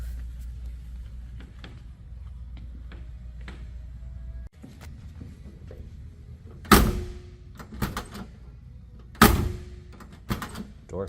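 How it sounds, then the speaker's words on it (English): Doors on a 1967 Ford Mustang being shut, several solid, heavy slams with sharp metallic thunks spaced a few seconds apart, close by, following quieter handling noises and a faint voice. "Door shut really good."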